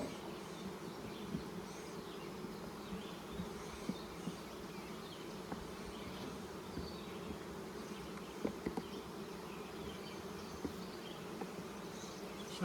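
Honeybees fill an open hive with a dense, steady buzz during a queen-rearing check, a continuous close drone of many wings with a few faint knocks from handling the frames.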